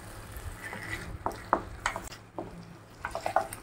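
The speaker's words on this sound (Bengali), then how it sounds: "পটলগুলো গ্রেভির সাথে খুব ভালো করে মিক্স করে দেব।" Fried pointed gourd being stirred into gravy in a pan gives a string of soft scraping and clinking strokes at an uneven pace, each stroke brief, with a low kitchen hum underneath.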